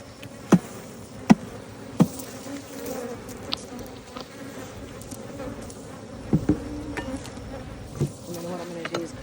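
Honey bees in a crowded hive buzz in a soft, constant hum, with a few sharp knocks and taps standing out above it, close and fairly quiet.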